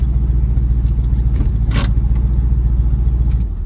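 A 1978 Chevy C30 dually truck, long parked, drives and pulls over, its engine giving a loud, steady low rumble throughout with a faint clunk near the middle.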